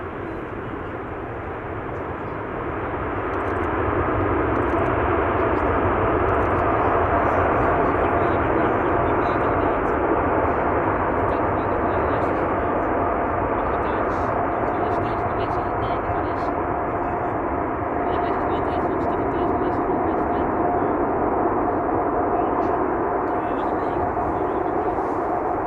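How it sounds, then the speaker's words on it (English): An Emirates Airbus A380 landing at Schiphol Airport with thrust reversers deployed, a broad, loud roar that swells after a few seconds and holds steady, with wind blowing toward the listener. "There you go, the Emirates A380, ladies and gentlemen, using the reversers"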